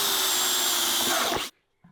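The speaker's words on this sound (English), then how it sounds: "Especially if you've got a super sharp drill like mine." A sharp drill whines steadily as it bores a hole in brittle plastic, loud and close, then stops abruptly, leaving near silence with a faint knock at the end.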